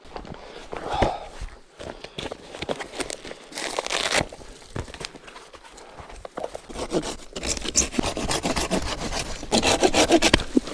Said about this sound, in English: We'll trim this up for the Bugaroo.